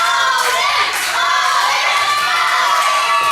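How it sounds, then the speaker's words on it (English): A wrestling crowd at a CCW Surge independent show cheers loudly and continuously for Odin Davenport, with high shouts and yells filling the hall in a dense, sustained roar. "The crowd fully behind Odin Davenport."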